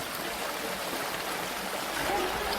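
Fast-flowing village stream water during rain, a dense, steady rush with no pauses.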